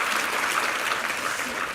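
A church congregation applauds a soprano soloist after a worship song, a dense, steady wash of many hands clapping close and loud throughout with no gaps.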